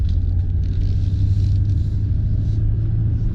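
A 2001 Mercedes ML430 SUV of the W163 generation drives and accelerates with a steady low engine rumble from inside the cabin, without talk.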